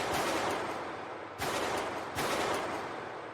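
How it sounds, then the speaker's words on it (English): Loud popping gunshots outside a Home Depot garden center in Atlanta: a rapid burst of shots, a short pause, then two more sharp bursts in quick succession, with no talking. "It's gunshots."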